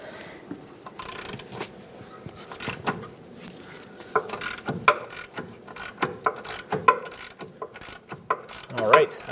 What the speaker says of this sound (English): Use a 24mm socket on the nut side and break this nut free.